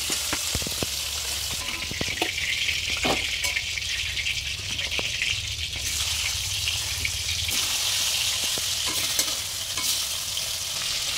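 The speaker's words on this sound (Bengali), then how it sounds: "আমি ইলিশ মাছের মাথাগুলা ভেজে নেব।" Hilsa fish heads fry in hot mustard oil, a steady loud sizzle with scattered sharp crackles and pops and occasional stirring scrapes, continuous throughout with no talking.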